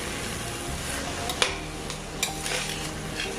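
Basmati rice and vegetables stirred together in a pan, with steady scraping and a few sharp clinks of a utensil against the metal over a soft background sizzle, close and alone.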